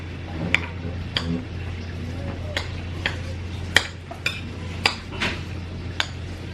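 Food being mixed in a pan at home, with a steady series of sharp utensil clinks and scrapes against the metal, fairly close and unhurried, over a low constant hum.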